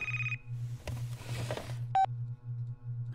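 Telephone ringing in a bedroom at night, a steady electronic ring pulsing in short repeated bursts, with a brief rustle and a higher beep partway through, no voices.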